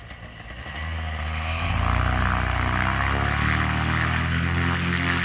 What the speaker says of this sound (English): Off we go on a short powered paraglider ride.